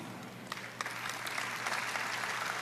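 Applause from a church congregation during a sermon, a steady wash of many hands clapping at moderate distance, brief and even throughout with no voices over it.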